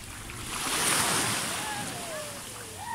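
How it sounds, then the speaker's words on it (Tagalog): Strong ocean waves break and surge at a beach at high tide, a loud continuous roar of surf that swells and recedes, with wind rushing across the microphone. "Lakas po ng alon kasi low tide."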